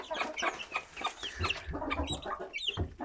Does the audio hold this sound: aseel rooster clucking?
yes